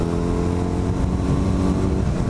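A motorcycle engine drones steadily and loudly while the bike is ridden, recorded through a Sena 20S helmet headset, with a continuous rumble and faint wind noise and no speech.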